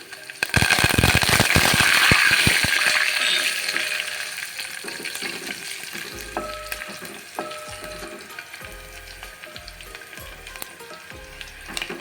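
Crushed garlic and curry leaves hit hot oil in a pan with a loud burst of sizzling and crackling that gradually settles into a softer steady fry, with occasional stirring knocks near the end.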